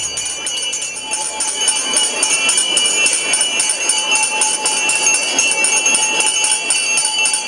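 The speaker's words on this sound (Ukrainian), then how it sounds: "перший шкільний дзвоник, що завжди 1 вересня кличе Україну знань" A school bell on the first day of school, 1 September in Ukraine, rings as a steady, continuous high metallic tone that fills the whole stretch at a constant loud level, with no talk over it.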